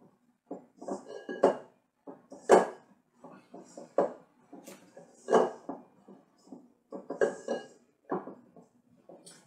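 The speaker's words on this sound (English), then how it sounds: "Maybe I can knead it a little bit in the bowl." Bread dough being kneaded in a bowl, with dull thumps and soft knocks against the bowl in irregular bursts, close and quiet, with short pauses between.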